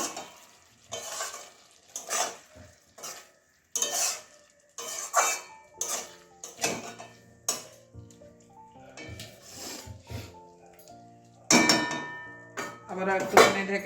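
Bean and potato curry is stirred in a pan with a spoon, producing irregular scraping and clanking strokes against the metal over a soft sizzle, near and distinct, with a few tonal clinks and pauses between stirs.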